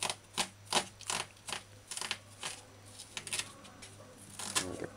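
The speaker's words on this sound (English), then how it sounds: "So dice and slice the onions fine." Knife dicing and slicing onions on a cutting board: a quick, irregular series of sharp chopping taps, close and fairly quiet, with short pauses between bursts.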